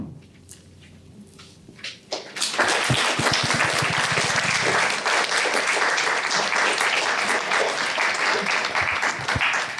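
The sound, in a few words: audience applause at a poetry reading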